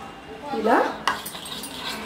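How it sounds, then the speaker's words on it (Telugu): A spoon stirs homemade orange skin cream in a pan as it cools off the stove, giving a few light metallic scrapes and clinks close by, with a brief soft voice-like sound mixed in. "స్పూన్తో తిప్పుతూ చల్లారనివ్వాలి."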